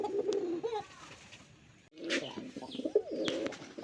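A male desi pigeon coos in courtship, with several close, rolling coos and a few soft chirps from other birds around it.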